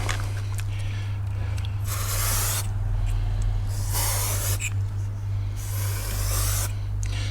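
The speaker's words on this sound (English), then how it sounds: "Let's put some spray on." Repeated hissing bursts of an aerosol spray applied to the flush mechanism of a Thetford cassette toilet, several short blasts close by, over a steady low hum.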